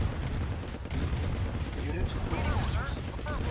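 Tanks blowing up during a 4v4 Command and Conquer Red Alert battle at a river, with dense continuous artillery-like explosions and gunfire rumbling throughout, loud and layered.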